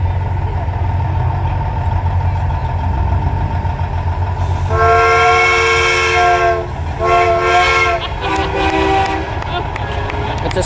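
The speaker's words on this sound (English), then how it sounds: "It's a steam whistle." A truck-mounted steam whistle sounds in a night convoy parade at a truck show, several long bright blasts over the low rumble of passing trucks, with a crowd talking in the background.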